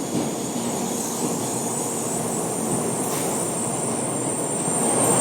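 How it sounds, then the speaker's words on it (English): Steady rumble and hiss of a Shinkansen Kodama 711 at a Japanese station, the train running continuously at close range, with a brief faint high squeal near the middle and no talking. "the Shinkansen I'm going to be taking is this one, Kodama 711, leaving at 9:04, heading to Shino, Osaka"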